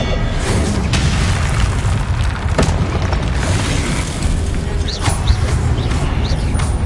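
A Confringo blasting spell explodes in a Harry Potter video game as a loud, continuous roaring rumble of blast noise, dense and unbroken throughout, with faint crackles on top.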